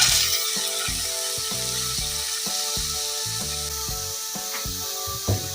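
Onion, cabbage, capsicum and peas sizzle and fry in hot oil, a steady loud crackle with scraping stirs, under soft background music.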